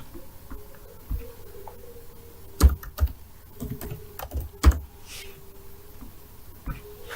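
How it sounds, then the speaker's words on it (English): Computer keyboard typing in irregular bursts, with a few sharp louder keystrokes standing out among lighter taps, close to the microphone with a faint background hum. "I've been pressing wrong keys on my keyboard today."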